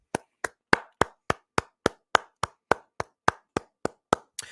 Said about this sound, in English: I want to give a round of applause for Matt Gage